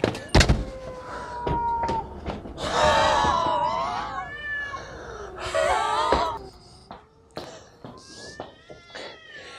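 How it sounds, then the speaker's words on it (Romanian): A cat meows and wails in a drawn-out, rising and falling way, in a few separate calls mixed with sharp knocks and clatter nearby, all fairly close. "Că e pisică."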